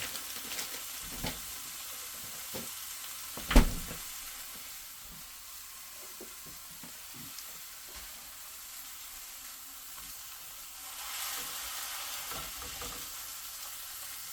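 Thick bacon slices fry in a round pan with a faint, steady sizzle and crackle, broken by one brief thump and a few soft handling clicks nearby.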